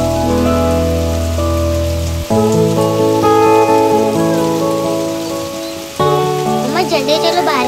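Steady rain patters continuously beneath loud, sustained musical tones, the downpour forming a constant hiss under the melody.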